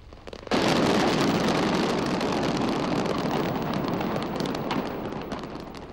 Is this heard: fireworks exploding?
yes